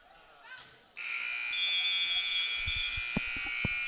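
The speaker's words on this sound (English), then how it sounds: "that buzzer signals the end of the first half" Basketball buzzer ending the first half of a women's varsity high school game, Oak Ridge v Whitney: a loud, sustained harsh buzz cuts in over gym noise, with crowd voices and ball bounces thudding underneath.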